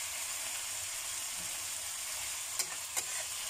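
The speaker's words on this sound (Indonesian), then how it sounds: "Kita goreng sebentar gitu aja, lalu ditiriskan dulu ya teman-teman ya" Chicken pieces fried briefly in a pan for a simple stir-fry, with a loud, continuous hissing sizzle throughout and two short utensil knocks near the end.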